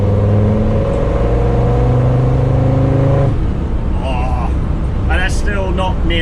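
A Land Rover Defender Td5 diesel engine accelerates hard in third gear with a loud, droning rise in pitch, then the tone suddenly drops. A voice talks over the engine noise.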